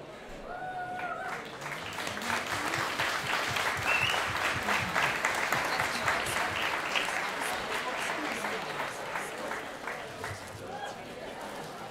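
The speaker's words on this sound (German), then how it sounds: "Einen großen Applaus für unsere Marlene" Guests at a parish ball in Pischelsdorf applaud warmly, a dense, steady round of clapping lasting throughout, with some voices and cheering mixed in beneath.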